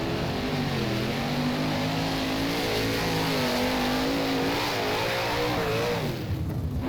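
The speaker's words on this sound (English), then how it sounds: "Sounds like a car coming." Engine of a 410 sprint car at Williams Grove in the rFactor racing game, droning steadily and loud throughout with a wavering, rising pitch as the car approaches, dropping off at the end.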